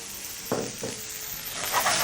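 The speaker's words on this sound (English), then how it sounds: "stirring your mixture continuously" Chicken stir-fried rice mixture being stirred in a hot pan, a steady close sizzle broken by two distinct scraping strokes of the spatula, continuing alone without talk.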